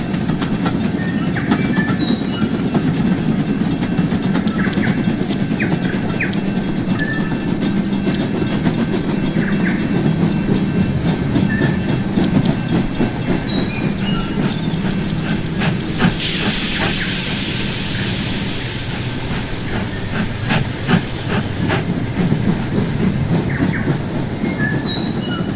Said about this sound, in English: I'm going to send the Carmel excursion train to right there after the Thomas one does.